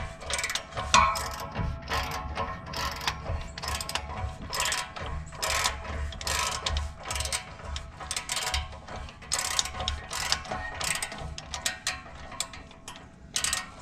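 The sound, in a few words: ratchet wrench loosening muffler clamp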